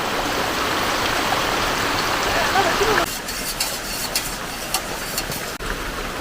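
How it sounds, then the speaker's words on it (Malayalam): Steady rain pours down outdoors on a rainy day in Kerala, a dense hiss that fills the first half and then drops to a lighter patter with scattered drips and clatter. "മഴ പെയ്യുന്നതാണെന്ന് തോന്നുന്നു"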